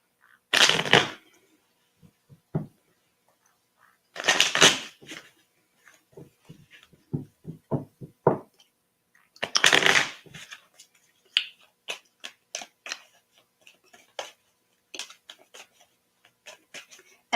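Tarot cards being shuffled by hand, with several longer riffling bursts mixed with rapid single card snaps and taps, close and crisp, with silence between.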